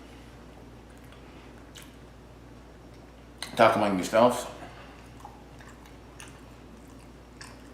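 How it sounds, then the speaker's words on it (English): Close, wet chewing of an olive, cheese and mustard sandwich comes in a couple of loud squishy bursts in an otherwise quiet room, with a brief spoken remark. "I'll take a few minutes to chew this one."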